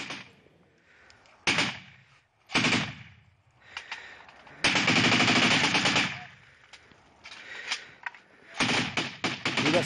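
Bursts of gunfire during an armed clash in Surki village, Afrin, with loud sharp reports and a sustained rattling burst midway, separated by quieter gaps.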